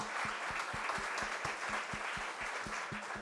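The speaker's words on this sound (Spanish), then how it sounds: "un aplauso para Luis" A faint crowd claps for Luis at a family business event, the broad wash of applause carrying a steady, regular low thump beneath it.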